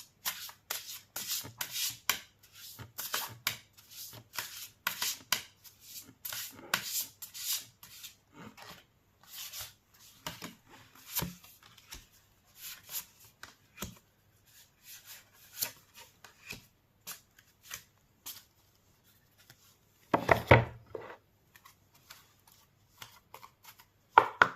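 Tarot cards shuffled and drawn, with rapid riffling and rubbing bursts early on, then sparser soft slides and taps, and a sharper handling clatter near the end.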